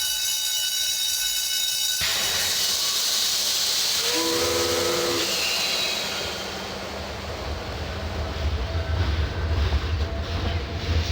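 A steam train in the game Grandia lets out a loud hiss, then a sharp whistle blast, followed by a rumbling roar as the train gets moving.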